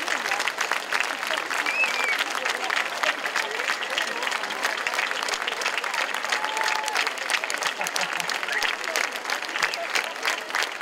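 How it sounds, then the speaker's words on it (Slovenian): An audience claps steadily through a festive cake-cutting ceremony at a centenary opening celebration, dense and sustained applause filling the room with no break, a voice faintly audible beneath it. "lepo je in smiselno je, da ves čas ploskate"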